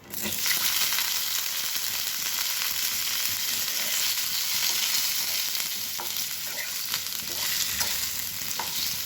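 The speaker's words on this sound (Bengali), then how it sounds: "এগুলো এবারে তেলের মধ্যে কড়ার মধ্যে দিয়ে দেবো।" Steamed potatoes, salted and tinted with turmeric, frying in hot oil in a wok: a loud, steady sizzle with occasional stirring scrapes, no voices.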